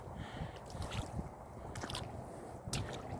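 Shoes squelch and slosh through muddy standing water on a wet dirt bike trail, a close run of irregular wet squishing steps with splashy bursts.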